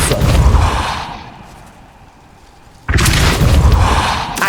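A Depulso spell cast in Hogwarts Legacy, a loud low booming blast with a whooshing burst, dropping away to quiet before a second heavy boom surges in near the end.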